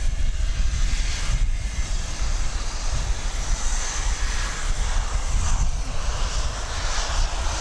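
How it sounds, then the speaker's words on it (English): A McDonnell Douglas MD-11 moves at Dallas/Fort Worth airport at daybreak, its jet engines giving a steady, continuous roar at moderate distance with no talking. "And Texas Girl says the MD-11 is now on the radar."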